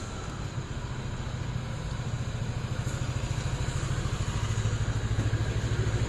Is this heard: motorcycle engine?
yes